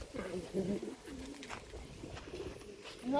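Pigeons coo softly nearby in low, rolling, repeated calls, with quiet background rustle.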